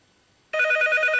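Silence, then a telephone bell starts ringing loudly and continues steadily, a bright trilling tone close by.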